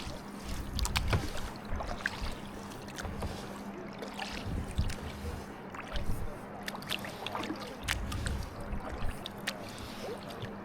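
A boat is paddled on water, with irregular splashes and dips from the strokes, light wind and a faint steady hum, all close and fairly loud.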